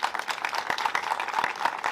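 Continuous applause from a crowd, dense and even clapping throughout, fairly close and steady in loudness.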